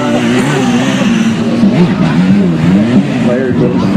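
A BMW S1000RR stunt motorcycle revs loudly, its engine pitch rising and falling as the rider works clutch, brake and throttle through circles, with someone commentating over it throughout.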